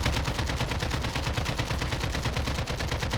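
Sustained automatic gunfire from the Warzone video game, a loud, dense and steady rattle of rapid shots that runs unbroken from start to finish, with no voices over it.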